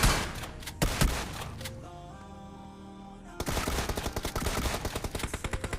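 Rapid automatic gunfire in the BGMI battle royale game, loud bursts at the start, a quieter stretch with tonal game sounds, then a sustained fast rattling volley of shots to the end.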